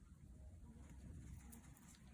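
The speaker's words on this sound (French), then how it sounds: "Ça, c'est le pigeon qui a été fait pour les sacrifices." A pigeon kept for sacrifices coos in low, soft repeated notes, faint against a steady background hum.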